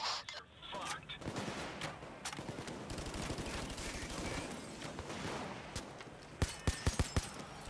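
Gunfire in Payday 2 crackles as rapid automatic bursts at moderate distance, dense and irregular, ending in several sharp, distinct single shots, with game noise underneath.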